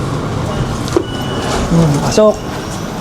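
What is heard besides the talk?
train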